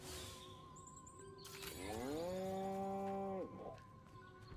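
A single long, sliding cow moo rises and holds loud and close, preceded by a sharp crack and bright rattling clatter, then fades away.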